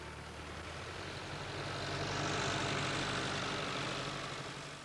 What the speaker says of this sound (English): The tractor pulls the seed drill along and the seeds fall down the pipes onto the soil.